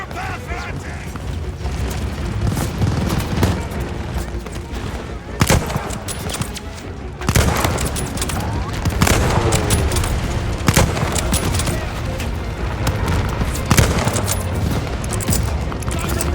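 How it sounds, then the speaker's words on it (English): Bombers attacking in the Call of Duty Vanguard video game, with dense, continuous gunfire and repeated heavy explosion booms. The barrage stays loud throughout, with sharp bursts standing out, and voices shouting under the din. "Here come the bombers!"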